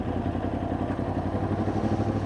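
A Yamaha R1 motorcycle with a tuned fuel map running close by, a steady throbbing engine note with a rapid rhythmic pulse, loud and unbroken for a couple of seconds, no voices.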